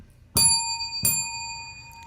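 A quiz game show buzzer bell rings twice, bright and metallic, with a clear ringing tone and a short decay after each strike. The second ring comes about 0.7 seconds after the first. No speech.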